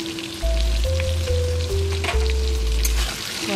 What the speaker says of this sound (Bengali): অল্প একটু নুন আর অল্প একটু লঙ্কার গুঁড়ো দিয়ে আলুটাকে আমি ভালো করে ভেজে তুলে রাখবো